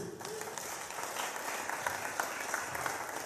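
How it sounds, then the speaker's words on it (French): Church congregation clapping together, a soft steady patter of applause with scattered sharper claps, heard at a distance throughout. "Est-ce qu'on peut acclamer pour lui?"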